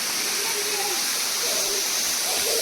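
Tulshi waterfall near Mandangad gives a close, loud, unbroken roar of rushing falling water that fills the whole stretch, with faint voices barely showing through.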